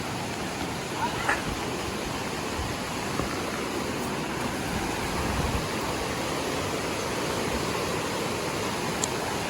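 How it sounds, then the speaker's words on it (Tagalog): Steady, dense hiss of heavy rain pouring continuously, broadband and unbroken, with faint occasional knocks in the background. "Oh, malakas na naman ang ulan."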